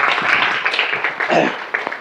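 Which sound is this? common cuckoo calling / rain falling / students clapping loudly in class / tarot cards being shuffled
students clapping loudly in class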